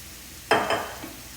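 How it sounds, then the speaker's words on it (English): Okra and tomatoes from the garden being folded together in a bowl, with two short wet squelching stirs close by followed by a faint soft tap, otherwise quiet. "So now I'll just mix this in together."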